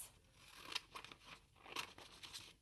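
Scissors snip through a paper shape, cutting it into several pieces, with crisp repeated cuts close by and a few seconds of quiet paper rustle between them; no one talks.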